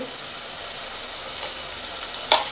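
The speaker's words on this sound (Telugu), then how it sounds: "ఈ అల్ల వెల్లిపాయ పేస్ట్ కూడా ఆయిల్లో వేగాలన్నమాట" Ginger-garlic paste frying in hot oil during fish curry cooking, a steady close sizzle with a few faint crackles and one brief sharper spatter near the end, with no talking.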